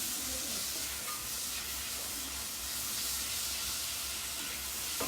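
Onions and shallots sweat gently in a pan, a soft continuous sizzle and hiss at low level without pauses.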